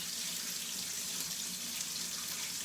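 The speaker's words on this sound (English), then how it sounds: "Let me just wash my hands off real quick." Tap water running in a kitchen sink while hands are washed, a steady close hiss of flowing water with no break, no talking.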